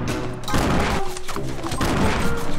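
Grenade explosions in Fortnite, a rapid barrage of booming blasts and crashes in quick succession, loud and dense, layered over game sounds.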